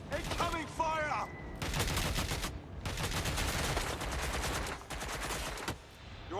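Bursts of gunfire from the Watch Dogs: Legion video game, a sustained loud fusillade of rapid shots in several long volleys with short gaps, mixed with brief shouted voices early on.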